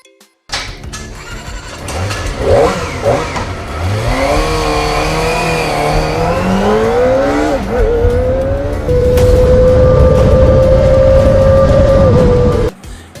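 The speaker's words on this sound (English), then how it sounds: "Yes, that was the sound of the stock exhaust" A Kawasaki Ninja ZX-25R inline-four motorcycle on its stock exhaust revs up repeatedly with climbing pitch, then holds a loud, steady high-rev drone before cutting off abruptly.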